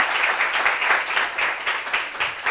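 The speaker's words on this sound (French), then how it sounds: "Applaudissements pour Daisy." An audience applauds for Daisy, a performer in entertainment and shows, with a brief burst of dense clapping that surges and dips in waves at a fairly loud, close level.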